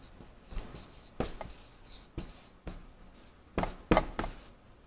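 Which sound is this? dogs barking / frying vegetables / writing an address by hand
writing an address by hand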